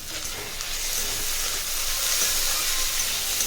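Steady sizzling and crackling of boiled mushrooms frying in a hot pan, constant and fairly loud with no voices.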